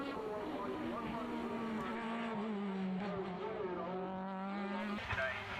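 Formula BOSS single-seaters race on an Irish circuit during a Leinster Trophy championship round, their engines droning and shifting pitch at a distance beneath ongoing commentary.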